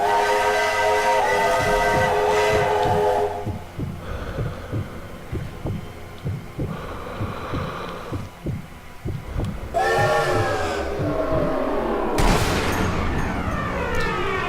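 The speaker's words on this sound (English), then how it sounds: "That sound of the train whistle will mask the sound of my bullet" Steam train whistle from the video game Sniper Elite V2, loud sustained harmonic blasts at the start and again near the end, with a rumbling rhythmic chugging of the train underneath throughout.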